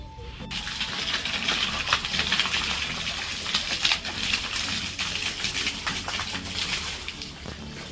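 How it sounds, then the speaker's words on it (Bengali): Water gushes steadily and splashes as it runs into a swimming pool, a continuous close rushing sound with faint patter throughout. "এই যে আমরা পানি ছেড়ে দিয়েছি এখন এখানে ভরবো পানি"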